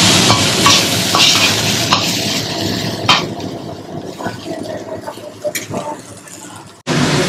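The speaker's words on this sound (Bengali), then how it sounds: "ফুলকপি ভাজা হচ্ছে" Cauliflower fries in oil in a home kitchen with a loud, steady sizzle and the occasional clatter of a utensil. The frying noise fades a little toward the end, and voices can be heard in the background.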